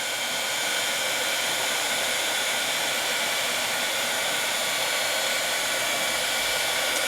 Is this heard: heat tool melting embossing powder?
yes